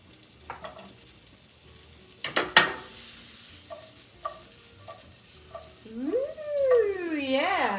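Slightly frozen gnocchi hit a hot pan, giving a loud burst of sizzling and frying followed by scattered stirring clatters and a rising, wavering tone near the end.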